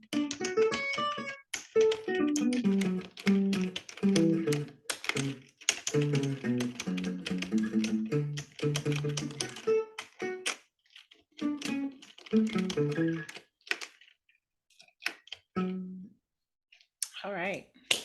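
A computer keyboard clatters as CSS code is typed, with quick runs of light clicks and taps under steady talking.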